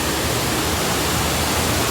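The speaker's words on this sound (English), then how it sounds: "Huge underground waterfall." An underground waterfall inside St. Beatus cave, a steady, dense roar of falling water that fills the space evenly without a break.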